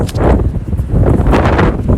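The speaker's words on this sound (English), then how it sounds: "it's windy, so you probably can't hear me" Heavy, gusty wind buffets the microphone, a constant low roaring rumble that swells and dips with no other sounds.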